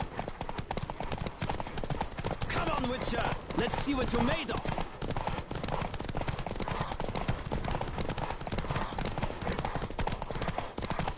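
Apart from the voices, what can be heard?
horse galloping hooves in a race, from video game Witcher 3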